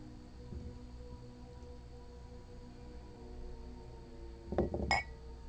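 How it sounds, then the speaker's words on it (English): A glass in a quiet kitchen shifts and clinks against a hard surface, two brief faint glassy knocks near the end of a low room hum, with no voices. "First, a glass in the kitchen starts to move by itself"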